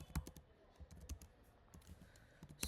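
Fingers typing on a computer keyboard while setting up a dashboard integration: a quiet, irregular patter of close key clicks with small pauses between them.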